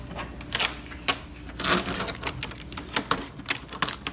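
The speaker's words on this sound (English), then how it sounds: "Take the tape off." Packing tape peeled off a new Canon PIXMA TS6420 printer, a series of sharp close rips and crackles in quick irregular bursts, fairly loud, no talk.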